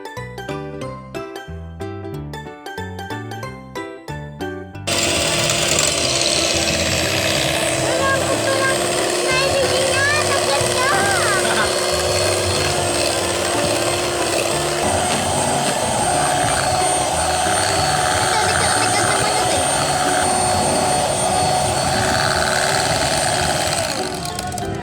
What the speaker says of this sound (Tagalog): Ginamitan ko na to ng electric mixer para mas madali.